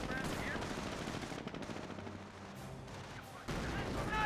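Rapid gunfire and bursts of battle noise in the real-time strategy game Company of Heroes, dense and continuous with overlapping shots and a heavier burst near the end, a commentator's voice faintly under the din.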